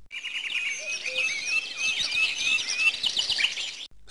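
Birds sing in a palace garden in the PC game Muzzy at the Disco: a dense, continuous chorus of bright chirps and tweets that fills the whole stretch.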